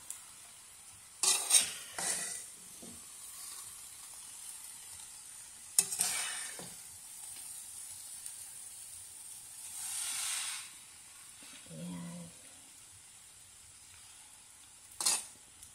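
Bukayo, sweet grated coconut, being stirred as it cooks in a pan: quiet, scattered scraping strokes and soft sizzling bursts separated by near-silent gaps.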